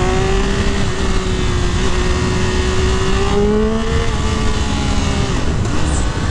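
A 2023 Triumph Speed Triple RR, a 1200 cc three-cylinder street bike, revs hard and steadily during a test ride, its engine note rising and sliding in pitch. It is loud and close, wind rushes over it, and no one talks.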